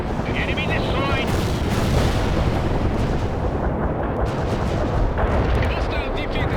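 Cluster bomb strike in a combat video game, a dense barrage of rumbling blasts and crackling detonations rolling continuously, loud and close, with radio-style voice chatter mixed in.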